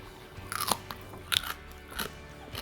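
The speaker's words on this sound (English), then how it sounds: "Cabbage, look how crunchy it is." Raw red cabbage is bitten and chewed up close, giving a few sharp, crisp crunches spaced across a quiet moment with no talking.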